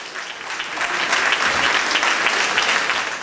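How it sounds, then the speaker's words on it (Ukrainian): A concert audience applauds enthusiastically after a guitar performance with a chamber-symphony orchestra at a guitar festival in Chernihiv. The clapping is dense, loud and sustained throughout. "Крім бурхливих облесків, публіка вигукувала «Браво!»."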